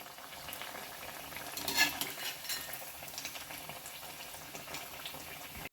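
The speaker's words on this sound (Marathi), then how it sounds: "आता आपण हा दुसऱ्या साईडने देखील अशाच पद्धतीने तळून घेऊया." Sabudana vada frying in hot oil on its second side, a faint continuous bubbling sizzle with a few light utensil clinks, close and steady, no voices.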